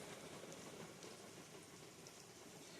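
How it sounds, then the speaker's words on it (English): Steady rain falls outdoors as a soft, even wash of hiss, constant and unbroken with no voices or other sounds. "And the rain starts."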